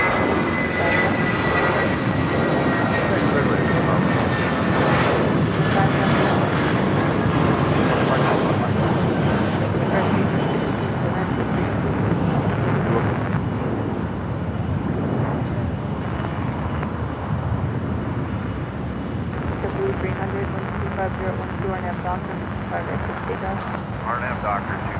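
A Korean Air A380 airliner on the downwind leg at Los Angeles airport, its engines roaring loud and steady for the whole stretch before easing slightly toward the end.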